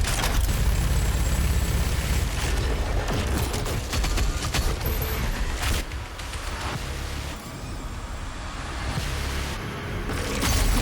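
The mobile turret in the video game DOOM Eternal fires as dense, continuous rapid gunfire, loud and sustained across the whole stretch, layered with game explosions and clatter and no talk.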